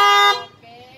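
A single short honk from a HELLA car horn sounds loud and close, then cuts off, leaving faint background noise.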